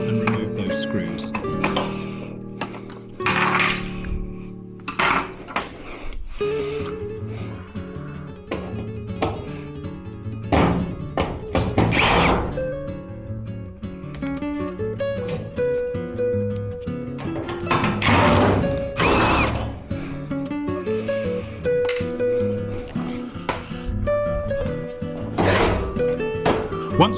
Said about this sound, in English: let's take off that lower panel and remove those screws